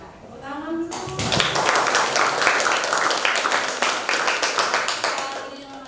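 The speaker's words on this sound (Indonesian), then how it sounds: "Tepuk tangan dulu." Applause from an audience at a school lesson presentation on tantra, yantra and mantra, starting after a short pause and continuing as dense, steady clapping from a group, loud and close with some murmuring underneath.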